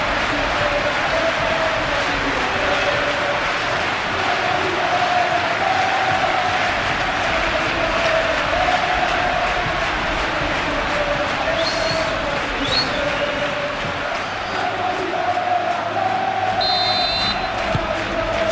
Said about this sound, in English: The crowd are calling for this